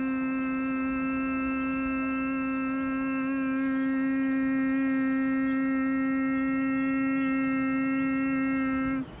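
A person imitates a loud vibrating hum, one steady unbroken tone held for about nine seconds, strong and close before it stops abruptly at the end.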